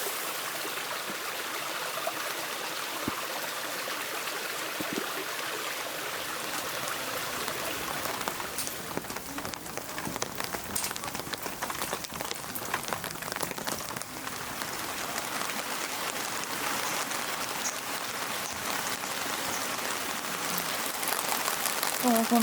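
Steady rain falls on wet stone paving along an old post-town street on the Nakasendo route, a dense even hiss of patter that continues throughout with no clear voices.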